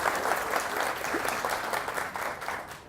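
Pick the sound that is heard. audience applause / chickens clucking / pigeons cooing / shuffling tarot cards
audience applause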